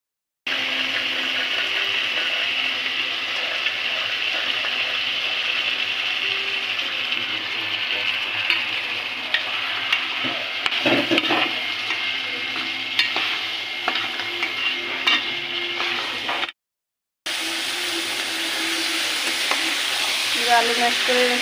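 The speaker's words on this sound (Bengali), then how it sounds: "এখন আমি ছোলাটা দিয়ে দিচ্ছি।" Chickpeas added to spice masala frying in oil give a steady close sizzle with occasional stirring clatter, running continuously apart from a brief gap near the end.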